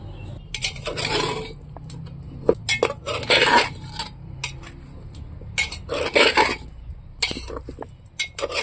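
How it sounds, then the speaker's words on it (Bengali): A metal pressure cooker being handled and set onto the stove, with repeated loud metallic clanks and clinks, some in quick bunches, separated by short quiet gaps. "এবার আমি কুকার বসিয়ে দিচ্ছি।"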